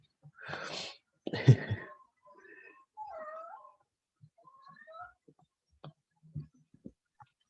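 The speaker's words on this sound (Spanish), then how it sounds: "No escuchan a mi gata, ¿cierto?" A cat meows a few times, close and fairly loud at first, then quieter mews and small noises trail off with near silence between.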